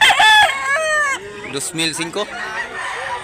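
A rooster lets out a loud, close crow at the start, with clucking chickens around it. A voice then talks over the birds.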